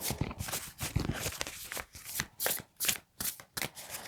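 Oracle cards are shuffled close by in quick, uneven bursts of soft riffling and sliding, fairly quiet with short pauses between them.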